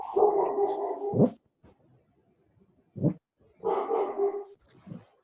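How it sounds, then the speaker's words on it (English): A dog barks in a few drawn-out, whining bursts separated by pauses, close and fairly loud with no talking. "No, it's not Red that's barking. It's my girlfriend's dog"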